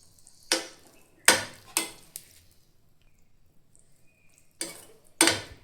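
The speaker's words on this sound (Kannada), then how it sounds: "ಈಗ ಮತ್ತೆಲ್ಲ ಮಿಕ್ಸ್ ಮಾಡೋಣ್ರಿ" A pot of North Karnataka-style hesaru kalu palya, sprouted green gram, is stirred and mixed with a spoon, giving five separate scraping swishes, two close together then a pause before two more, near and alone.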